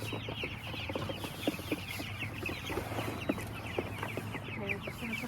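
Pasture-raised chickens, just moved out of the brooder onto pasture, cluck softly in scattered short bursts, with faint background noise around them.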